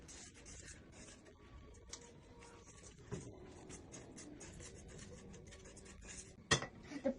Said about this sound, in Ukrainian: Довго взбиваємо.